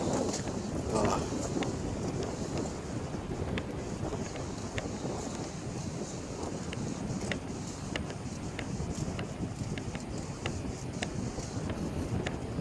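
Strong wind buffets the microphone at a clean seashore, a constant rough roar with gusty swells and occasional sharp clicks, while a voice speaks briefly underneath.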